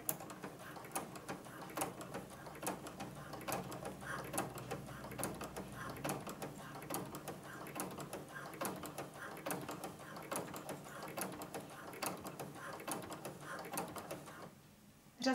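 A sewing machine fitted with a ruffler attachment gathers the fabric on every stitch, making a quiet, fast, evenly repeating mechanical ticking and clacking that runs steadily before stopping at the end.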